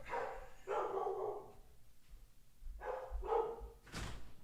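Several dogs bark loudly inside a house, a couple of bursts of overlapping barking separated by a short quiet gap, heard fairly close, ending with a sharp knock or slam.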